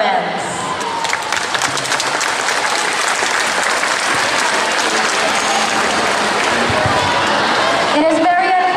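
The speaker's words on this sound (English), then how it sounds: "Let us all give a reverberating and warm applause to the parents." Warm, sustained applause fills a school recognition-day hall, dense and steady throughout, with a little crowd noise mixed in and a voice breaking through near the end.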